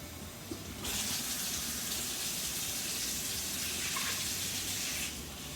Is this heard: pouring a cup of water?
yes